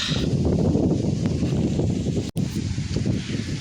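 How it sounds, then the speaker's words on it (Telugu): Steady, broad roar of wind buffeting the microphone throughout at Araku pinery, with a brief dropout near the end. "అది గాలి సౌండ్ విన్నారు అసలు"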